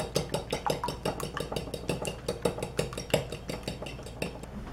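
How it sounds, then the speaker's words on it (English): Eggs whisked in a bowl, a fast steady run of light clinking taps repeating several times a second throughout, close and moderately loud. "Mix it, whisk it up"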